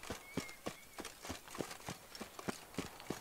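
Horse hooves clip-clop at a steady walking pace in The Witcher 3, about a dozen evenly spaced, fairly close hoof strikes with no voices.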